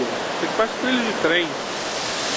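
A waterfall rushes steadily beside a small bridge made from rail track, a constant broadband roar running under a voice speaking close by.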